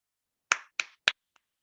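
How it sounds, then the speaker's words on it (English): Three sharp, quick hand claps in a quiet room, evenly spaced and close to the microphone, followed by a much fainter fourth tap. "Why you clap at that?"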